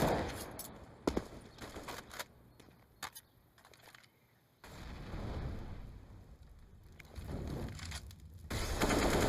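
Counter-Strike match on Inferno, a professional FaZe Clan versus SK Gaming game, with a rifle spraying in a rapid burst of shots followed by further scattered gunfire and explosive rumbles, loud and close.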